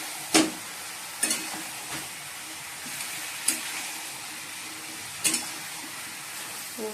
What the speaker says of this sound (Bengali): শাকটা দিয়ে দিয়েছি তেলের মধ্যে, এবার পোস্ত বাটা দিয়ে দিলাম